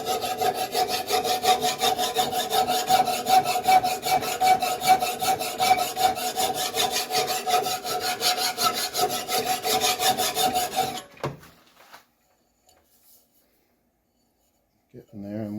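A hand file scrapes a lawn mower blade during sharpening on a Honda/Husqvarna mower, in steady rhythmic rasping strokes, loud and close, for about eleven seconds before stopping into near silence, with a brief noise at the very end.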